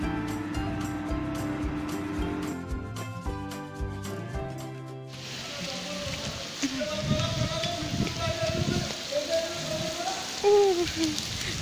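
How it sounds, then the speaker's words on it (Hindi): Rain falling on a college campus, heard as a steady broadband patter that follows a brief stretch of music, with a voice talking over the rain. "या बारिश चल रही थी"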